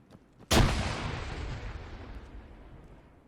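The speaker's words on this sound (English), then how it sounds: "practice concussion grenade and practice fragmentation grenades" A single loud practice grenade blast in Arma 3 hits suddenly after a brief quiet, then rolls out in a long fading rumble lasting several seconds.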